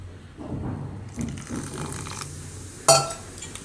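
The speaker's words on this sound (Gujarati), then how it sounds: "ને ઉપર થોડુંક પાણી નાખીશું." Water poured onto a rava batter for a breadless sandwich, a soft close trickle and splash with light clinks of a vessel, ending in a sharp clink.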